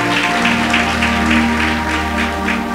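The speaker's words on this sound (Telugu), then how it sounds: "గట్టిగా చప్పట్లు కొడదామా?" Church congregation clapping hard during a Telugu sermon, a steady dense patter of many hands sustained throughout over a droning musical backing.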